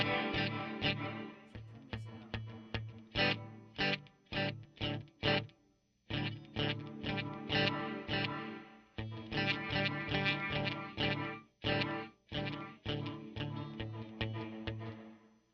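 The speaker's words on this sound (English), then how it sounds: "you'll hear way more reverb now" Electric guitar played through a DIY Flick reverb/tremolo/delay pedal with the reverb turned up and dark, giving rhythmic strummed chords in short bursts with brief gaps and lingering washy tails, loud and alone for about fifteen seconds.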